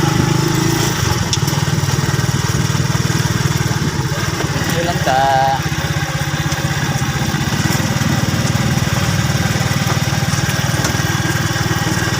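A motorized tricycle engine runs with a loud, steady buzzing putter throughout, close by, with a brief spoken remark over it.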